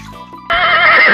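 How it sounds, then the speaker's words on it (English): A loud, close horse whinny bursts in after a brief stretch of music and carries on as a long, quavering neigh. "horse"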